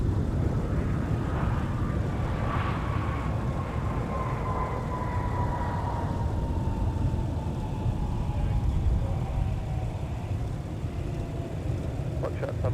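Airliner taking off at MSP airport, a broad, steady engine roar heard from a distance, with a slowly falling whine, while radio chatter runs in the background.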